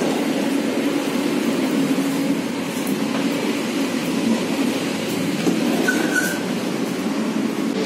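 A suburban electric train on Moscow's MCD-4 line rolls past with a steady rumble and faint wheel clatter, a brief higher squeal near the end, moderately close and without talk.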